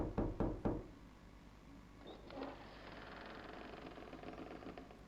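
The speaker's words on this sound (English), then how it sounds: "I did not like that knocking." Three loud, sharp knocks in quick succession open a scene in the horror game Poppy Playtime, followed by a low ambient drone and faint creaks.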